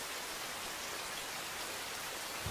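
Rain falling steadily, a dense even hiss of drops throughout with a soft thud near the end, no voices.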